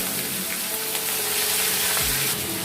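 Chopped onion frying in hot oil in a pan, a steady dense sizzle with faint stirring scrapes, close and continuous without talk, in a home kitchen cooking country chicken curry.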